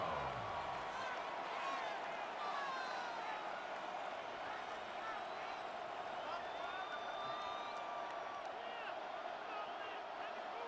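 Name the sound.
crowd noise in a stadium, from the video game Madden NFL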